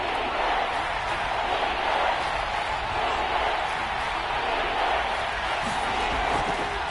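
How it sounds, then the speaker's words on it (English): A football stadium crowd roars steadily ahead of a big third down, a dense, loud wash of cheering voices that holds throughout without a break. "The crowd getting into it as we come up on a big 3rd down"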